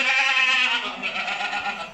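Goats bleat loudly and close by, one long wavering cry followed by more overlapping bleats from other animals.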